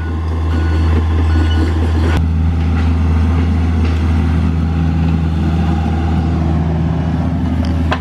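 A diesel excavator works in a backyard scraping topsoil, its engine droning loudly and steadily with a sharp clank early on and intermittent scraping and rattling, plus reversing-style beeps.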